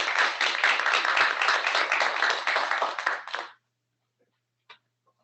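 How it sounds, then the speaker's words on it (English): An audience claps for a speaker being introduced at a health care talk, a dense, loud round of applause lasting about three and a half seconds before stopping abruptly, followed by a couple of faint stray sounds. "So please, a nice round of applause for her."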